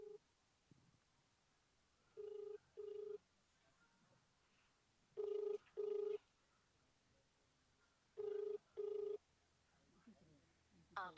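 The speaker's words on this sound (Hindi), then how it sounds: "ग्राम सेवक जी ने फोन मिला रहे" A telephone rings back on an outgoing call to a village official, coming as three evenly spaced pairs of short electronic rings over a quiet background with faint murmuring voices.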